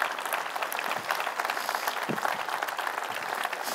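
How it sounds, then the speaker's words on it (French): A church congregation claps steadily for several seconds, the applause dense and even with faint crowd murmur beneath. "Est-ce qu'on peut applaudir les 40 ans et moins?"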